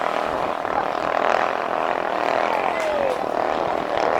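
A racing boat's engine and loud exhaust roar steadily at an Eid'l Fitr bancarera boat race in Darong, a continuous droning whine held at a distance with a slight pitch sweep, no talking.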